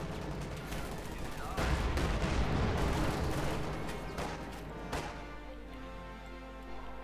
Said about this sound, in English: And bombing from the north.